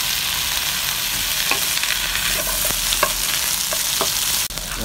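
Garlic scapes stir-fry in a hot wok with salt and soy sauce, a close, steady sizzle broken by light spatula scrapes and ticks, ending in a brief clunk, with no talk.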